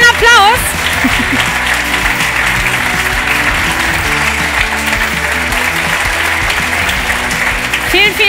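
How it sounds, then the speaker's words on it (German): Loud, continuous applause from a packed audience at a Science Slam contest in Berlin, a thick wash of clapping with cheering voices and scattered calls layered through it from start to finish. "Kai Hoffmann, dein Applaus."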